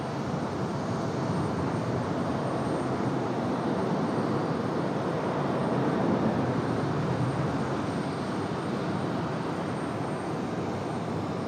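An Air France Airbus A350 airliner on runway 23 right at Raleigh-Durham airport produces a steady, continuous jet engine roar, broad and fairly distant, holding level throughout with no voices.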